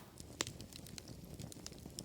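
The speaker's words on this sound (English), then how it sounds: "the other is a campfire sound." Campfire crackling used as a sound effect in a song, heard as faint, scattered pops and snaps over a soft steady low rumble, with one sharper crack standing out.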